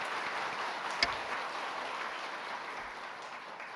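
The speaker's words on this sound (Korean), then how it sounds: "우리 또 성가대도 늘 아름다운 목소리로 헌신했는데 박수 한번 합시다." A church congregation applauds the choir after a service anthem, a soft, even wash of many hands clapping from across a large room, steady and unbroken with one brief sharper knock.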